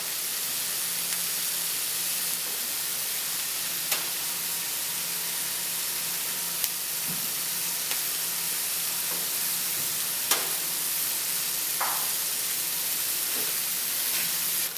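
Tomatoes sizzle and reduce in a frying pan, a steady, close hiss of frying with occasional soft stirring clicks and scrapes, no voices over the bubbling.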